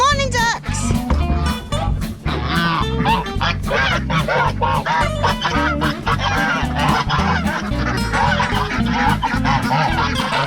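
Geese and ducks honking and quacking loudly and nearly nonstop at close range, a dense overlapping flock chorus with a person's voice mixed in.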